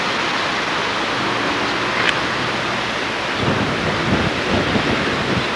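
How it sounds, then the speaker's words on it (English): Heavy tropical rain in Hawaii pours in a loud, constant hiss, with a low rumble swelling underneath toward the end. "It's really raining."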